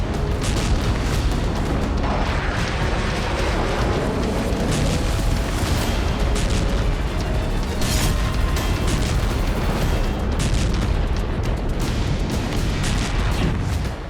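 News footage of a large explosion on Iranian soil, heard as a dense, continuous roaring rumble full of booms and crackling bursts that stays loud throughout.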